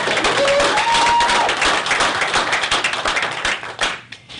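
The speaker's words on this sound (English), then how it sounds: "That's a round of applause." Audience at a pumpkin festival press conference gives a sustained round of applause, dense clapping that is loud at first, thins out and fades over about four seconds.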